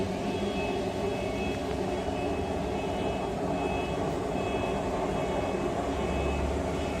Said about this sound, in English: So I set the blower and this aluminum pipe up temporarily